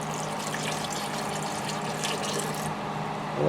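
Water poured into a homemade slime mixture, a steady close trickling splash lasting a few seconds without talk.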